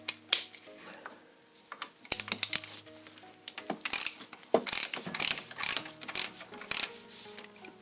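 Ratchet clicking as 6mm clamp bolts are slackened on a Yamaha FZS600 Fazer motorcycle, with several bursts of sharp, close ratcheting strokes at an uneven rhythm after a quieter start.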